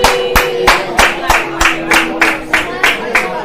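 An audience applauds its leader at a community gathering with steady, rhythmic group clapping that sounds close and fairly loud. Sharp claps repeat about every half second, and a sustained tone hums underneath.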